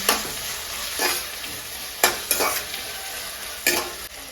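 Food fries in a pan under a constant hiss, with a spoon stirring and scraping at intervals in a handful of sharp strokes.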